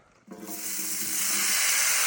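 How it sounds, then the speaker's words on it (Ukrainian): Potatoes with mushrooms drop into hot oil in a frying pan and a loud, steady sizzle swells up, bright and crackling, close by with no talking. "О, хай смажиться все."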